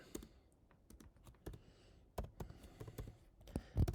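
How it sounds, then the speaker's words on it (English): Keys clatter on a computer keyboard in irregular bursts of close, sharp clicks, sparse at first and then quicker, with louder strikes near the end and no voices. "and then we type a message to tell the user what to do"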